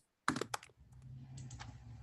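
Quick bursts of typing on a computer keyboard, several sharp close clicks in a cluster followed by a few lighter keystrokes over a low background hum.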